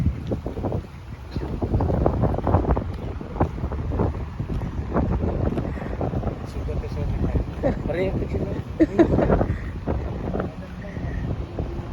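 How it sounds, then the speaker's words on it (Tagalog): Gusty wind buffets the microphone with low rumbling bursts throughout, while a person talks over the noise outdoors beside a highway near Eglinton and Dufferin in Toronto, Canada. "Maulan, mahangin."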